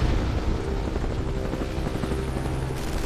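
Helicopter rotor roar in the shooter video game Marlow Briggs and the Mask of Death, a steady loud thumping drone that fills the whole clip with no talk over it.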